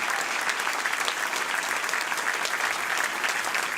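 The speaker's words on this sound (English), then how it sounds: "Let's give our music staff a huge round of applause." A school audience at a primary school jazz band concert claps steadily and loudly, a dense sustained burst of applause with no break.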